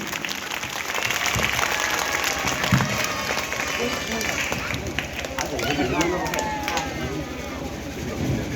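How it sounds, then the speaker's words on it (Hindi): Applause for a guest at a ceremony, a roomful of people clapping steadily and loudly without pause for the whole stretch, with voices mixed in. "जोरदार ताली सर के लिए"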